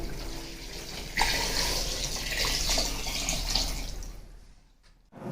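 Two liters of water poured into a cooking pot holding tamarind and dried plums for a sharbat, a steady gushing splash that starts abruptly, runs for several seconds and then tapers off.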